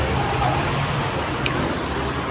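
Heavy monsoon downpour in Rajkot, a steady close hiss of rain hitting surfaces with scattered individual drop taps, loud and unbroken from start to end.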